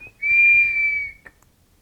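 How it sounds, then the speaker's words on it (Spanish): An ancient whistling vessel sounding as air is forced through a tiny internal whistle in its chamber: one sustained, clear high-pitched tone lasting about a second, followed by a brief faint chirp. "ves que se le empuja el aire y todo sale por un silbato, un micro silbato que está instalado internamente en esta cámara"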